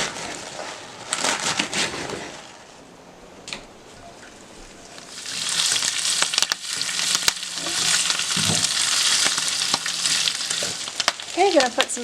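Edible hibiscus leaves fry in a pan with a loud, close sizzle that swells after a quieter start. Stirring and rustling crackles break through, and a faint bird-like chirp appears near the end.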